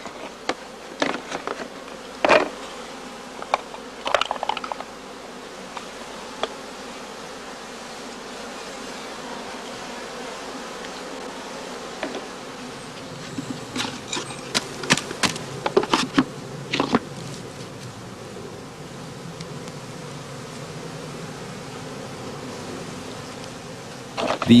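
Honey bees buzz steadily around small willow-wood queen cell cages sealed with bee candy, a dense continuous hum close by, broken by scattered clicks and taps of handling.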